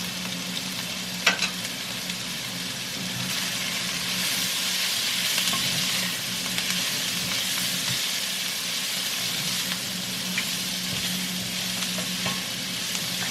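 Chopped onions frying and browning in a pan for Salisbury steak, a steady loud sizzle with occasional stirring clicks, close and continuous without talk.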